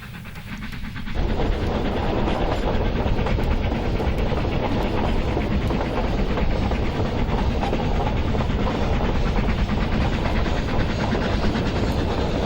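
A narrow gauge train labors up a 1 in 44 gradient near the Lesotho border, loud and close, with rhythmic chuffing, hiss and clattering wheels building abruptly and holding steady throughout.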